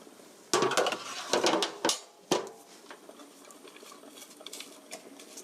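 Onion, garlic and carrot are stir-fried in a pan for a cream sauce spaghetti, giving a few sharp clattering tosses and scrapes early on, then a quieter sizzle and light patter.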